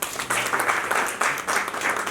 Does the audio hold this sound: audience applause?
yes